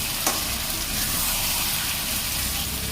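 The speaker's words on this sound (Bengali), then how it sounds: "এবারে আলুগুলো দিয়ে দিচ্ছি, ভাজা ছিল আলুগুলো দিয়ে দিচ্ছি, মশলার সঙ্গে কষে" Potatoes sizzle and fry in oil with spices, cooking for a light chicken curry; a steady, close, dense crackling hiss carries through without pause, with no talking.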